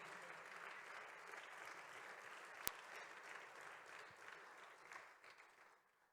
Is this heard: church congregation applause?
yes